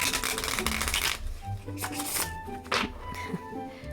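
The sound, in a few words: shuffling flexible plastic playing cards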